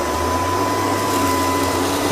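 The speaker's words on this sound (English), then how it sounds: "I might just have the vacuum clean the main room and just forget the hallway" An LG R9 robot vacuum cleaner running continuously at close range, a loud steady motor whine and airy suction roar with a constant pitched hum and no talking.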